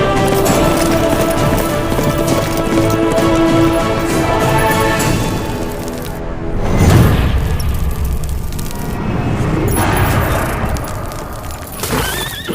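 Horse hooves clip-clop in a quick rhythmic patter, mixed with dramatic film music and a deep booming swell midway, with no talking.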